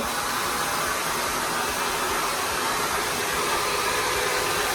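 A hair dryer blows continuously and loudly at close range while drying a man's hair, a steady dense whoosh with no breaks.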